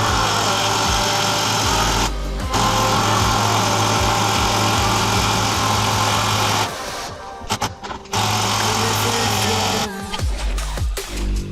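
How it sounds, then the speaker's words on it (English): A power drill on a bolt, installing a 2-inch lift kit on a Mitsubishi MK Triton, whines loudly and steadily up close, cutting out briefly a few times before starting again with sputtering bursts. "Let's see if the drill will get this section."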